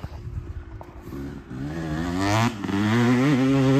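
Motorcycle engine running close by, shifting from an uneven idle into a rising rev, with a steady harmonic drone that climbs in pitch and grows louder toward the end.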